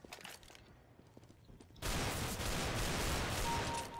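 Gunfire from an odd, plastic-sounding weapon in Counter-Strike: Global Offensive, a sudden dense burst of loud, continuous shots that kicks in partway through and keeps going, after quieter scattered background noise.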